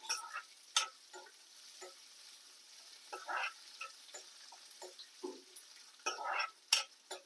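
Urad dal frying in a little oil while being stirred, for curry leaf powder: sharp scraping and rattling bursts come and go irregularly over a faint background hiss, close and alone.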